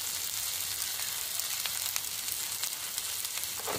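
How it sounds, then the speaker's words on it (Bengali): Turmeric, ground cumin, ground coriander and Kashmiri chilli powder fry in a pan, giving a continuous close sizzle with faint scraping clicks from stirring. "দিয়ে খুব ভালো করে কষে নেব।"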